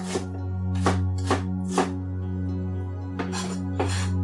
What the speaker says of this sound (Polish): Kroję sobie cebulkę, bo będziemy cebulę będziemy podsmażać razem z kaniakiem